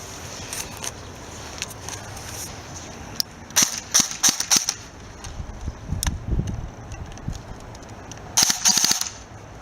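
A BB gun fires in a series of sharp cracking snaps and mechanical clicks, some in quick bursts, close and loud against a quiet background.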